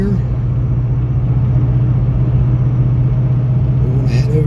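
A car rolls along at about 35 mph in fourth gear, engine near 2,000 RPM, producing a constant close-up low drone and road rumble that stays even throughout, with no talk over it.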